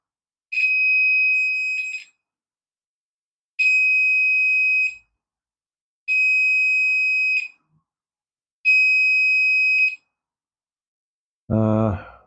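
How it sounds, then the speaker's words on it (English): A shrill electronic buzzer, triggered by a tilt switch in a homemade conductive-dough circuit, sounds in four even bursts of about a second and a half with pauses between, followed by a brief voice at the end. "I've got it wired directly to the buzzer."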